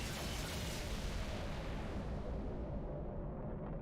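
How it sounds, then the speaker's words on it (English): Triple-round modified MAC cannon on a frigate in Halo Reach firing, a dense, sustained roaring blast that fills the clip and slowly dulls as its high end fades away. "the modified Mac cannon to fire 3 rounds at once"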